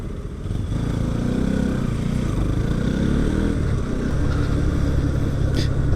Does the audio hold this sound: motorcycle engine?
yes